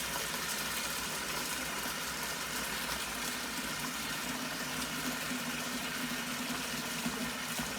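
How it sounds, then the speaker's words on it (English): Tap water running into a pot for pasta, a steady hissing gush that stays even and continuous for several seconds, close, with no talk. "let's fill the pot up"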